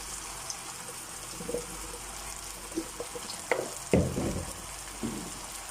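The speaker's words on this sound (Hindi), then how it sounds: "तो अब हम इनके अंदर बैगन ऐड करेंगे।" Eggplant goes into a pan of softened potatoes and fries with a soft, steady sizzle, broken by a few spoon-and-pan clinks and scrapes as the vegetables are stirred.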